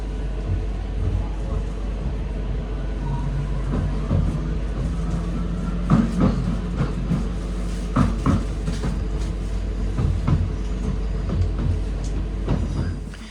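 A train departing Manchester Piccadilly station, with a steady low rumble and running hum, a few knocks and clunks and a faint rising whine, while a voice talks intermittently over it.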